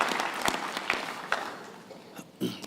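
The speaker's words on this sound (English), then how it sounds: "let's give them a round of applause." Applause from the audience at a university winter graduation ceremony, a fairly close burst of scattered claps that thins out and trails off over a few seconds.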